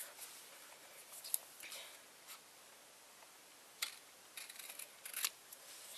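Yellow paper strip being snipped with scissors, a few soft, crisp cuts spaced apart and heard up close in a quiet room.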